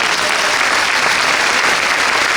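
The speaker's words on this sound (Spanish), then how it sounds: "Fuertes aplausos para Miguel Duarte, integrante de la MSAFE y" Congress attendees break into loud, dense applause, a sustained wash of clapping from a large crowd with no talking.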